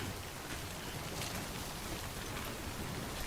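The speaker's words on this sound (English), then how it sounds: "Well, it is raining, so we gotta be careful" Steady rain in the video game Death Stranding, a dense even hiss of falling water that holds unbroken throughout with no voices.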